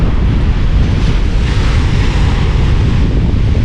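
Loud ocean surf rolling onto a wide beach, mixed with heavy wind buffeting the microphone, a continuous roaring wash with no voices.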